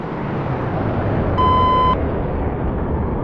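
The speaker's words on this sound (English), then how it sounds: "just letting me know with a beep that the synchro pair are leaving the display line" A single electronic beep in a Red Arrows flight simulator warns that the synchro pair are leaving the display line. It is a clear half-second tone over a steady rush of engine and wind noise.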